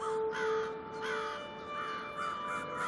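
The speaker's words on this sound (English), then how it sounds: "crows swoop in from all directions, their numbers entering the hundreds" Several crows caw at night over a university building roof in Halifax, repeated harsh calls in uneven bursts, fairly near and loud with no other sounds.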